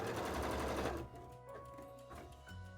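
A sewing machine stitching in a fast, close rattling run for about a second, then slowing to quieter intermittent whirring.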